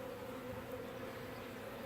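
A swarm of honeybees buzzes in a faint, continuous drone, a steady hum of many wings with no pauses, heard at a distance and quite quiet.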